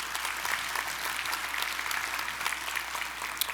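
Applause from the audience at an annual meeting, even, sustained clapping from a fairly large crowd with a steady low hum beneath, neither fading nor building over a few seconds.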